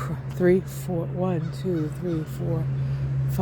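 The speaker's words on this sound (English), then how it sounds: "a whole bunch of crows just went over my head" A flock of crows passes overhead, giving a series of harsh, repeated caws at moderate distance over a constant low hum.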